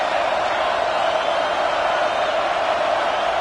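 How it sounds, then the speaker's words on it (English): A large stadium crowd at an Indiana versus Michigan football game roars steadily in a dense, continuous wash of cheering and noise, loud and unbroken throughout. "This crowd bringing the energy and noise early."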